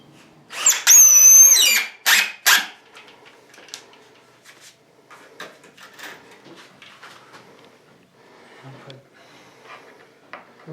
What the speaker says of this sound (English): then we're going to cut that after we drill this in right now